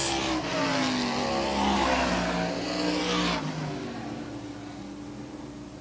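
Modified race cars roar past at close range on a short track at the end of a qualifier, a loud engine sweep with a falling pitch that fades as they move away.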